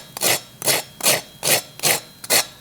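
Crispy toasted grilled cheese sandwich crunching in five evenly spaced, loud, close bites or presses, each a sharp broadband crackle with short pauses between.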